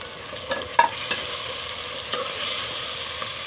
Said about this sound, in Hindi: टमाटर को अच्छी तरह भूनेंगे।